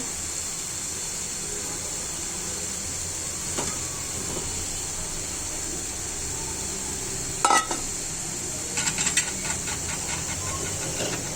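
Radish greens with chopped coriander frying in a pan give a continuous close hiss and sizzle, broken by a sharp utensil scrape and a few clattering stirs near the end.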